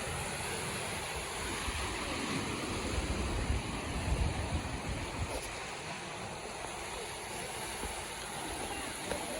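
Sea waves wash in and churn along the Malvan shore, a low rolling roar swelling and easing over steady background hiss, with no talking.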